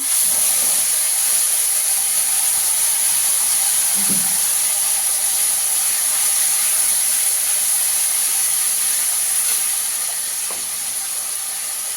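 Tomato paste hits hot oil with whole cumin while cooking palong shak (spinach) dhoka, giving a steady, even sizzling hiss that runs unbroken throughout, with no voices.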